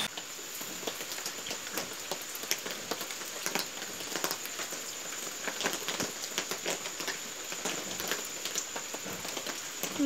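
Heavy rain falls steadily, a dense, continuous patter of drops hitting surfaces with frequent small splashes throughout, with no talk.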